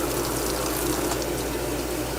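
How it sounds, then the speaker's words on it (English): Water runs steadily from a laboratory tap as a specimen is rinsed beneath it, a continuous close rushing splash with no pauses and no voices. "Rinse it under flowing water."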